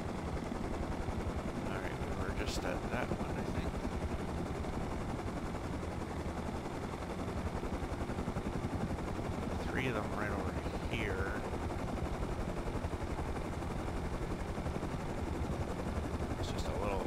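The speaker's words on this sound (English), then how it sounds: "Wish a helicopter would go away." A helicopter in the survival video game Rust drones steadily overhead for the whole stretch, a constant loud rotor rumble with a few faint distant gunshots cutting through.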